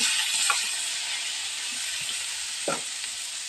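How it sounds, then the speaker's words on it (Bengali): Steady, loud sizzling of eggplant pieces frying in hot oil, with a few soft stirring bumps and crackles over the constant hiss. "এই শিম ভাজার তেলের মধ্যে আমি বেগুনগুলোকে ছেড়ে দিচ্ছি"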